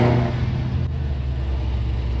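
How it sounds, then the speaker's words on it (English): A 2020 Chevrolet Camaro ZL1 engine holds a deep, loud rumble close by, strongest at the start and then settling into a steady, throaty drone for about two seconds. "Listen to that engine roar"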